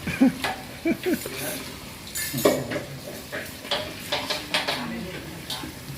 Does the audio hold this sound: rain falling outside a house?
no